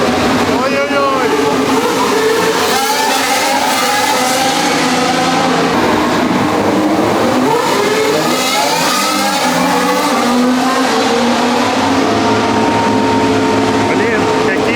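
Formula 1 cars practicing race starts at the Abu Dhabi Grand Prix roar continuously, engines revving and whining as they accelerate, loud throughout with overlapping pitch sweeps and people talking and exclaiming over the noise.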